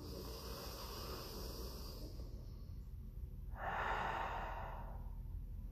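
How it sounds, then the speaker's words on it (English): A single deep inhale drawn in through the nose during a diaphragm breathing drill, a soft airy rush swelling midway and easing off, close and fairly quiet. "So here's my inhale."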